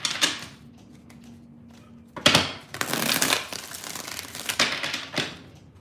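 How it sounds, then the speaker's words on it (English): Tarot cards riffled and shuffled by hand in several rustling, papery bursts, the deck snapping and settling between shuffles, close and fairly loud with short pauses. "Two more shuffles."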